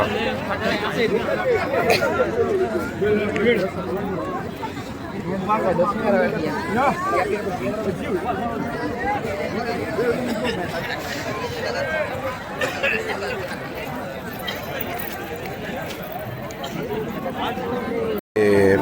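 Dense crowd of pilgrims at night on the Sangam bathing ghat during Kumbh Mela in Prayagraj, steady loud babble of many voices and footsteps all around, with a person talking nearby over it.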